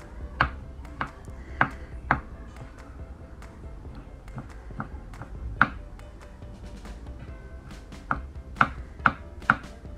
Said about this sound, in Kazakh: Майдалап турап аламыз